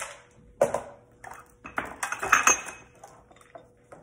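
A spoon stirs raspberry chocolate chip mix in a bowl, giving quiet, irregular clinks and taps against the side, alone and close.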